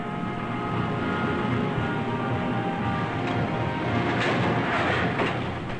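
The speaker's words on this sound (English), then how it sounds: "Every day, as many as 80 boxcars of parts arrive at each" Railroad boxcars of parts rolling into a car assembly plant, a dense, steady rumble of rail cars with faint clattering on top, sustained and fairly loud from start to finish.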